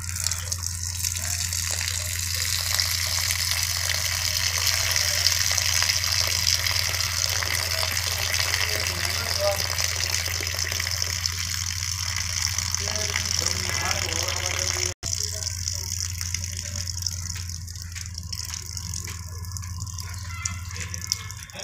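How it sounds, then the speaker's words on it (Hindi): Water gushes steadily as it is poured off a sand sample in a container during a silt content test on a construction site, with a constant flow and a low background hum. It briefly cuts out partway through, then continues with a thinner trickle. "निकालो पानी बाहर से"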